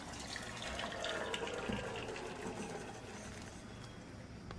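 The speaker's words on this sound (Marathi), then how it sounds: "आता हे ओतून काढू आपण. तर आपण आता चाळणीमध्ये टाकू आपण." Water and par-cooked rice for mutton biryani pour into a colander to drain, a soft steady rush of liquid splashing through the strainer, faint and continuous, tapering slightly toward the end.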